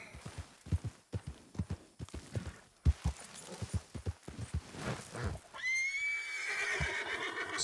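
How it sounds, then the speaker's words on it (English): In Red Dead Redemption 2, horse hooves thud in a steady clip-clop and a horse gives a loud, shrill neigh near the end, close and clear with no talk. "Well, at least we found your new horse, the Clapper."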